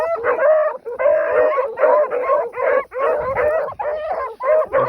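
Hunting dogs, including a Cherokee male, bay and howl in a continuous chorus while trailing a rabbit, loud and near with overlapping rhythmic bawls and short gaps.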